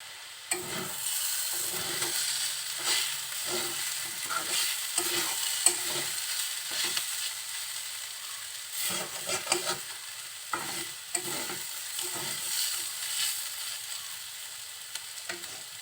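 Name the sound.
stirring potato bhaji frying in a pan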